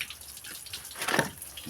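Water pours hard from a hose fed by a tank into a bucket, a steady rushing splash throughout that swells briefly midway, close and fairly quiet.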